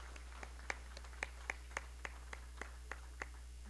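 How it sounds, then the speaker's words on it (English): A few people clap for service award recipients at a company ceremony, about a dozen sparse, evenly spaced individual claps over a steady low hum, with no talking. "let's give them a round of applause"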